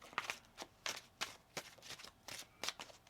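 Tarot cards being shuffled on a table, a series of about eight short crisp riffling bursts in a steady rhythm, close and fairly quiet, with no voices.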